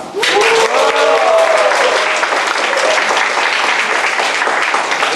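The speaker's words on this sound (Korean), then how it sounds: "여러분들 박수소리가 저로서 더 훨씬 나은 것 같습니다" A crowd at the opening of the 2013 freedom of expression festival bursts into applause right after the opening declaration, loud dense clapping close by with a brief voice at the start, steady throughout the five seconds.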